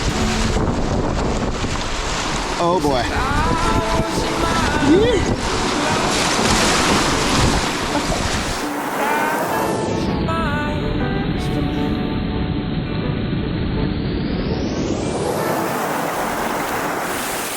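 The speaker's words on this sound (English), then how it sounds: "As you can hear, this wind is just a beast." Strong wind roars and buffets the microphone continuously over the rushing water of the Devils River, a desert river, with a person talking briefly over it.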